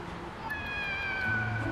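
A cat meows once, a clear drawn-out call rising and falling over quiet outdoor background, with a faint low voice near the end.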